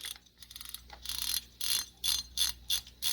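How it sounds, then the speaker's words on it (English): The drag clicker of a vintage Zebco 33 spincast fishing reel ratchets in quick bursts: a rapid run of fine clicks, then several separate buzzing click spurts, close and clear with no talking. "And it's got a much better sound to it. To your drag clicker."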